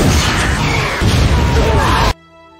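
A loud, sustained blast roars and crackles for about two seconds, then cuts abruptly to a quiet tonal hum.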